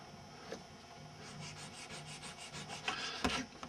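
A foam fingernail-board sanding stick rubs back and forth against a small scale-model window piece, quiet rhythmic rasping strokes in a close, steady series with a sharper scrape near the end.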